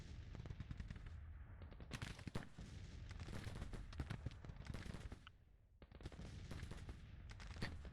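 Massed Civil War rifle and musket fire from troops in the strategy game Grand Tactician crackles in dense volleys and rapid bursts, loud and sustained, with a brief lull before the firing resumes.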